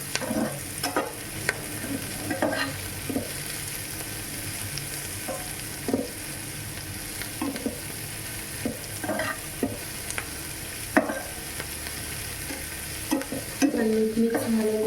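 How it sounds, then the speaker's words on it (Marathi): Paneer frying in a pan for restaurant-style chilli paneer, a steady close sizzle punctuated by repeated scrapes and knocks of a spatula stirring the pieces, with a brief rattling clatter near the end. "छान फ्राय होत होती."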